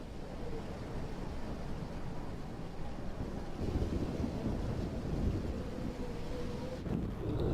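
A thunderstorm in the video game Life Is Strange, a steady, dense roar of wind and rumbling thunder that swells slightly midway and continues unbroken throughout.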